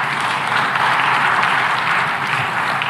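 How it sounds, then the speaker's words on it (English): Sustained applause from a crowd listening to a national address by the Tanzanian president in Dar es Salaam, a dense, steady wash of clapping that holds at an even, loud level throughout without any voices over it. "Now you can clap."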